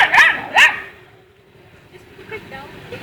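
Stray puppies at night, with two sharp, loud, close yips or barks in quick succession followed by quieter whimpers and faint yelps, and a person talking nearby.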